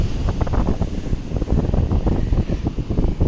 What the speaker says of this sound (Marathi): पाण्याचा एवढा आवाज येतोय की पाणी कुठेतरी सोडलेलं आहे